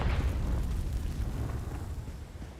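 The Confringo blasting spell explodes in Hogwarts Legacy with a deep boom at the start, followed by a rumbling roar that fades over a couple of seconds.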